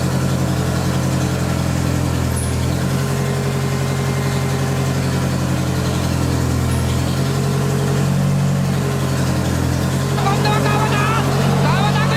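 A Nissan 240SX drift-build engine runs with a steady, loud mid-range hum that fills the whole stretch, settling into an even idle after starting.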